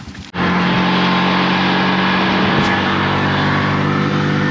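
A tuk tuk's small engine roars up close and continuous as it pulls away from the Argentine customs post after crossing from Chile, a steady buzzing drone with no pauses.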